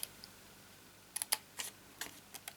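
Scissors snip through scored cardstock in a handful of short, sharp clicks and crisp cuts, close by and spaced irregularly over a quiet background.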